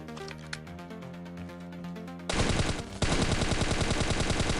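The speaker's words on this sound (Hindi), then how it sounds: "यहाँ पे पीछे की साइड से मेरे पे फायर पड़ते हैं" Rapid automatic gunfire in the mobile shooter Scarfall 2.0, with loud bursts of fast, evenly spaced shots that start suddenly after a quieter musical passage.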